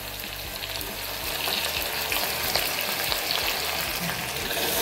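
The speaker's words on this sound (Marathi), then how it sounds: "थोडंसं लालसर कांदा होईपर्यंत आपण याला तेलामध्ये थोडंसं फ्राय करून घेऊ" Onion and bay leaf frying in oil, a dense continuous crackling sizzle, close and steady, growing slightly louder partway through with faint stirring underneath.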